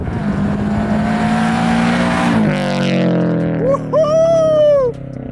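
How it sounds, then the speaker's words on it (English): A 2022 Subaru BRZ fitted with a Tomei UEL header and Tomei Expreme Ti titanium exhaust revs loudly, a steady droning note that drops, then climbs in sharp rising revs, heard from close inside the car with no talk. "The whole Tomei system is sounding amazing."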